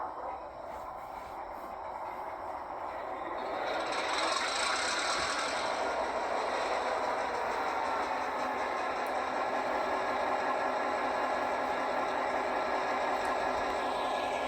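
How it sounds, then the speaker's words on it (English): A Rapido GP38 HO scale model locomotive in BN livery starts up, a low rattling engine rumble that swells around four seconds and then holds at a steady, fairly quiet idle. "let me go ahead and start up the locomotive here"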